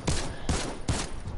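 Three heavy rifle shots from an assault rifle in a video game, evenly spaced about 0.4 seconds apart, each a sharp loud crack with a booming low tail.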